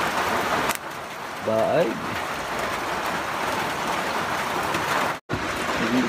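Light drizzling rain falls during an outdoor vegetable harvest in Batangas, a steady, even hiss throughout, with a voice speaking briefly over it.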